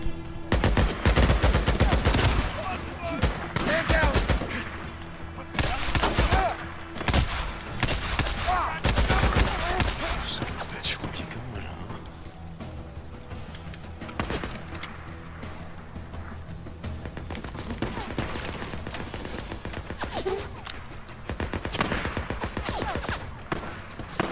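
Sustained gunfire from the video game Days Gone during a large enemy camp fight, dense bursts and volleys of shots crackling loudly almost throughout, with brief lulls between intense clusters and a faint voice under the battle.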